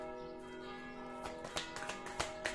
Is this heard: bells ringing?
yes